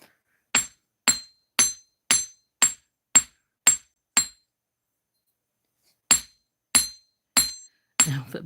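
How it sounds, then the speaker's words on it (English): Metal hammer taps on wire ring out in a steady series of eight sharp strikes, a pause, then four more, each with a bright clinking ring. "Now, the biggest part about working with wire, you hammer it and it does things like this."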